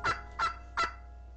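A turkey gobbles three times in a children's storybook narration, with short, evenly spaced bursts of throaty warbling over quiet background.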